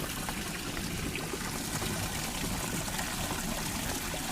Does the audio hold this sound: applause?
no